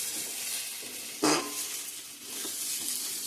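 Rice frying with salt, turmeric and ground spices in a pan for khichuri gives a continuous soft sizzle, broken by one sharp scraping stir burst partway through, then settling back to a steady hiss.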